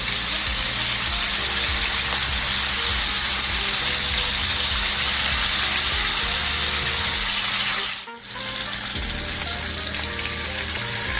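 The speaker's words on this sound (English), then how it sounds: "just add your fish in the pot to fry" Steady, dense sizzling of fish fillets frying in hot oil in a pot over medium heat, loud and continuous, with a brief dip in the hiss near the end.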